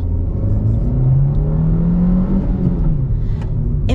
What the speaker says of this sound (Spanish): Vamos a hacer un aceleroncito acá.